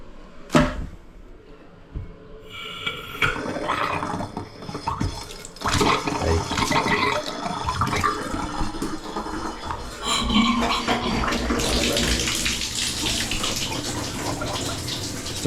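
Water runs from the taps into a bathtub in a continuous, fairly loud gushing rush with shifting splashes, nearby and steady throughout, with no talking.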